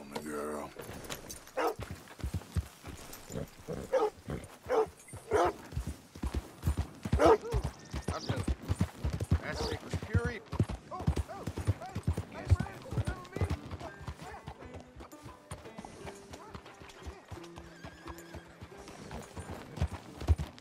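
Horse hooves clip-clop at a steady trot in Red Dead Redemption 2, with occasional whinnies and neighs, all under ongoing game speech, music and ambient sound.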